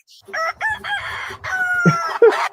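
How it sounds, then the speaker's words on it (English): A rooster crows at dawn in a full cock-a-doodle-doo with rising and falling harmonic calls, close and loud, with a few short clucks near the end and no talking. "The rooster crow for 5 o'clock like me have work"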